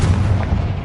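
A Confringo fire spell blast in Hogwarts Legacy hits as a short, loud, heavy boom with a low rumbling body that fades quickly.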